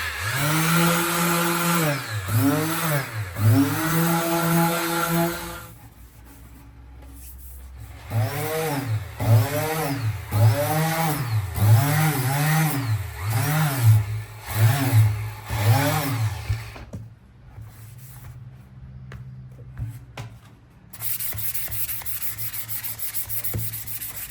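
A power tool sands and levels the chestnut wood body of a bağlama in rhythmic rising and falling strokes, loud and close, with a pause partway through and a steady motor whine near the end.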